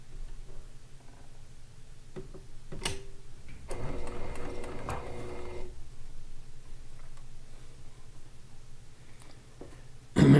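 A domestic sewing machine pieces log cabin quilt strips in steady whirring bursts, with a louder stitching run in the middle and a few clicks before and after, close by and with no talk.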